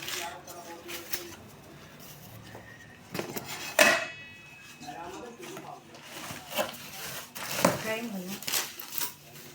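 Metal pots clank and clatter in a few sharp bursts while people talk nearby in the background.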